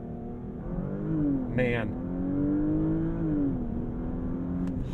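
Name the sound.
2021 Porsche Panamera accelerating in launch control, full throttle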